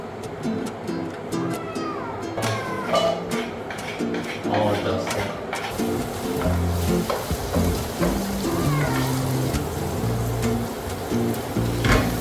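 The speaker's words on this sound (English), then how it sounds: "I am going to put garlic and meat into the pasta sauce." Garlic and meat frying in a pan of pasta sauce for cheese pasta, a steady sizzle with stirring scrapes and clatter, while a person talks over it.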